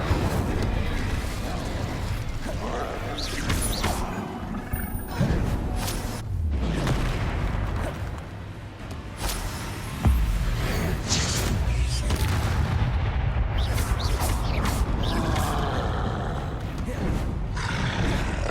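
Booming spell explosions go off repeatedly in a Hogwarts Legacy duel on PS4, with sharp blasts and rumbling impacts over constant battle noise, while a voice speaks at times.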